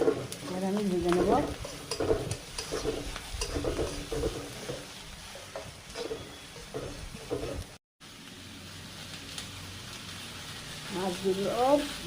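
Small sea fish coated with salt, chilli powder, turmeric and coriander powder frying in a pan: a steady sizzle with clattering stirring and a brief dropout, while a voice talks at times.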